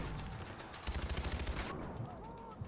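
Dense automatic gunfire in the video game Far Cry 4, a rapid burst of close, loud shots over continuous battle noise, with a heavier stretch of fire in the middle.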